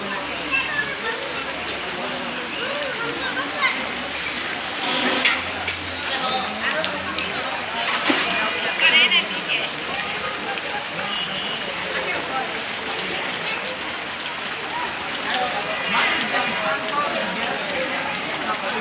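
Rain pours onto a flooded, waterlogged street where a rickshaw is pedalled through, a loud, steady hiss of drops and splashing that continues throughout, with a voice speaking over it.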